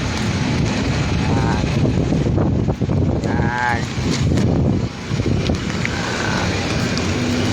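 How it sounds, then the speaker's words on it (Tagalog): Strong wind buffets the microphone in a steady, loud roar, with a passing boat or vehicle rumble and brief faint tones. "medyo malamig yung panahon kasi malakas yung hangin."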